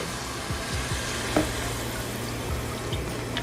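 Shrimp coconut curry sizzles steadily in a hot pan, a dense, continuous frying hiss close by, with coconut milk pouring in and faint stirring scrapes, no voices.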